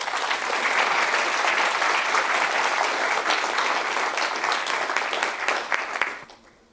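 A lecture audience applauds to welcome Professor David Haig at the 2019 Lloyd Cox Memorial Lecture, with sustained, dense clapping at an even level that tapers off and dies away near the end.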